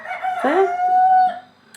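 A domestic rooster crows once, loud and close, its call rising then holding a long, steady note before trailing off.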